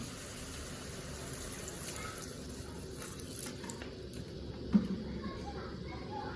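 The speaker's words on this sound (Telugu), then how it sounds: "దీనిలోకి మనం కొంచెం వాటర్ పోద్దాము" Water poured into pork curry in a pot, a soft continuous trickle at low level with one brief knock partway through.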